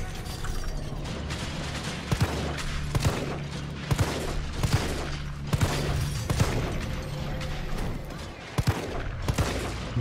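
Rapid bursts of gunfire in the video game Resident Evil 3 Remake crackle over a dense, noisy background, with sharp shots repeating irregularly across the whole stretch.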